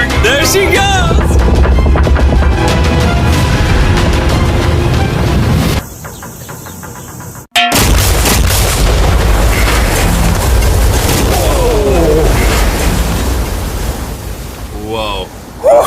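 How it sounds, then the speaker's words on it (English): A mega C-bomb detonates on an RC yacht-style boat on open water, a loud broadband roar and crackling debris that cuts out briefly before a sustained rumbling wash of water and air returns, with shouting voices over the tail. "This explosion is going to be massive."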